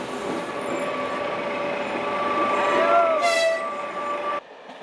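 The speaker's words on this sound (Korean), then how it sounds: "타르투스를 떠난 심야 기차는 지금 다마스쿠스를 향해 달립니다." A night train running from Tartus to Damascus rumbles steadily with sustained tonal whines and a brief squeal or horn-like tone, loud and close, before cutting abruptly quieter near the end.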